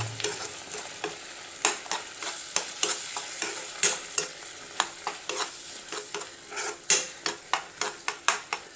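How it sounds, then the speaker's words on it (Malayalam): A utensil scrapes and stirs ground coconut paste into curry in a pan, with repeated rhythmic scraping strokes over a soft sizzle and no talking. "അരപ്പിളക്കി കൊടുക്കാം കേട്ടോ."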